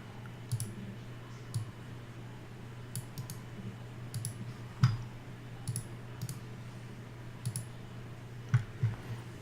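Sharp, isolated mouse clicks land at irregular intervals, close and fairly quiet, over a steady low hum while commands are copied and pasted, with no talking.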